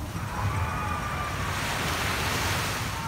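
Strong sea waves roll and surge steadily at a beach, a loud continuous wash of surf with wind buffeting the microphone throughout.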